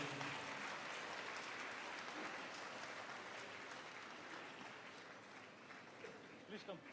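A crowd at a long life offering ceremony for the Dalai Lama applauds steadily, a dense continuous clatter of hands that tapers slightly as voices emerge near the end.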